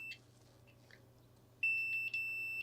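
A multimeter in continuity mode, probing a transistor on a Samsung QN75Q90R One Connect box board: two close, steady electronic beeps, a short one at the start and a longer sustained tone near the end, with brief scrapes between and no talk.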